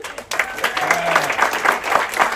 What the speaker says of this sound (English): Big applause for Papi.